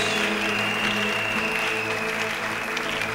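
A church congregation claps steadily and loudly throughout, a dense continuous applause filling the hall with no pauses, heard close and alone.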